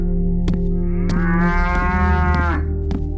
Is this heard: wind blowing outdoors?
no